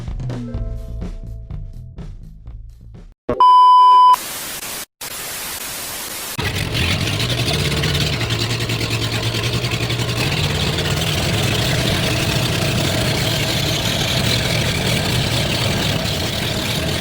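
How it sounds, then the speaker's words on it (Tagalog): A boat engine on the crossing to Camotes Island, a steady loud drone with heavy wind-like noise, starting after a brief burst of music and static and running on continuously. "Paminawa sa ninyo mga kalm ang makina sa among gisakyan."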